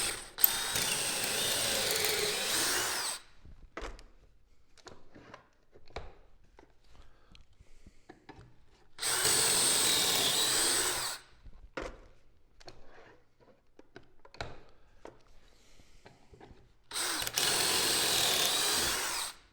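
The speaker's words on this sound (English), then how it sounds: "if you're drilling pocket holes in a long piece" A power drill bores pocket holes into a long piece of wood held in a pocket-hole jig, three loud sustained whirring bursts separated by quieter stretches of clicks and handling noise.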